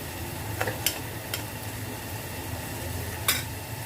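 Prawns sautéing in hot oil with masala in a home kitchen, a steady soft sizzle with occasional sharp scrapes of a stirring spoon against the pan.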